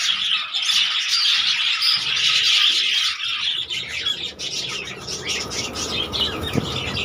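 A breeding colony of budgerigars fills the air with dense, continuous high chirping and twittering, loud and close at first, thinning slightly later as soft rustles and a faint knock come through underneath.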